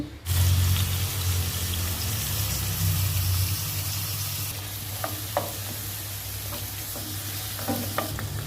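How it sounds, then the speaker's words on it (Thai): Pork ribs marinated in soy sauce fry in a dry pan with only a little oil, giving a steady close sizzle with occasional soft clinks of stirring. "ทอดแบบกระทะแบบแห้งๆใส่น้ำมันนิดเดียว"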